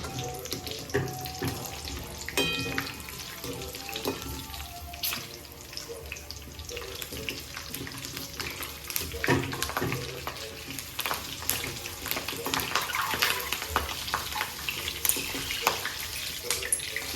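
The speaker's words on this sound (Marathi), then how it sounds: "त्यानंतर आपण मिरच्या फ्राय करतोय" Green chillies frying in oil, a dense continuous crackling sizzle with bursts of popping spatter, steady and close throughout without talk.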